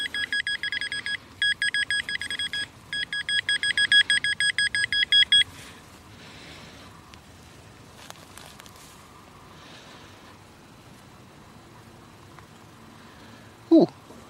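A Minelab CTX 3030 metal detector gives a signal in a field: rapid bursts of bright electronic beeps for about five seconds, then quiet outdoor background and a short sharp tick near the end.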